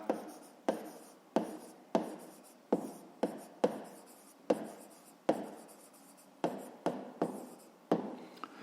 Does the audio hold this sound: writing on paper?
yes